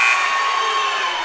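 A game-end buzzer at a high school basketball game sounds as one loud, steady electronic drone that holds for over a second and fades slightly, with crowd noise underneath.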